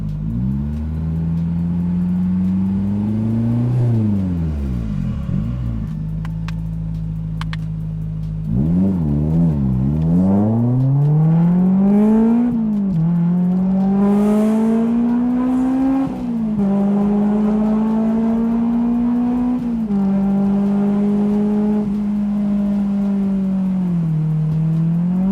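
A Honda S2000 sports car pulling away from a red traffic light, its high-revving engine climbing loudly through the gears with clear rising pitch, brief drops at each shift, and a sustained close-up wail.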